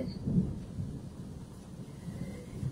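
A low, distant rumble of thunder rolls through, rising briefly then fading into a soft steady murmur.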